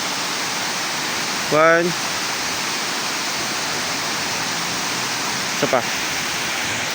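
A waterfall roars as a steady broadband rush from start to end, while a voice speaks briefly twice over it.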